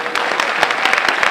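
Audience applause at a Gujarati film award ceremony, a dense wash of steady clapping with scattered sharper claps, filling the whole moment without pause.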